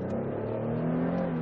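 A Ford Explorer fifth-generation 3.5 V6 4WD Limited engine revs up under light throttle from inside the cabin, a steady low drone that builds evenly and stays loud and close throughout.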